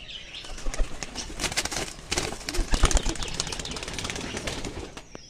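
A Kalanka pigeon beats its wings in quick fluttering bursts at close range, the irregular flaps rising and falling over a few seconds.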